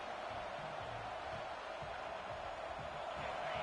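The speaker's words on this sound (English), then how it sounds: "The roar of the crowd trying to fuel this defense to keep them pinned in their own end." Football stadium crowd at a Baylor college game roaring steadily as the defense holds, a dense, continuous wash of noise that stays level throughout with only faint murmurs beneath.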